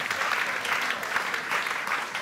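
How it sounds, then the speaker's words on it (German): Brief burst of audience applause at a film festival screening Q&A, dense clapping from a full room at moderate, steady level. "Applaus."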